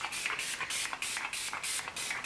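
Spray bottle misting 80% ethyl alcohol diluted with water to disinfect a cleaned automatic egg incubator, several short hissing bursts in a steady rhythm, close and fairly loud, with no talking.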